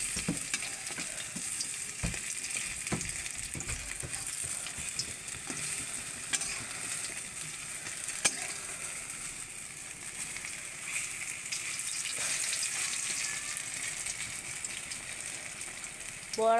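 Khesari lentil fritters fry in hot oil, giving a continuous close sizzle and crackle with occasional sharper pops and stirring clicks throughout.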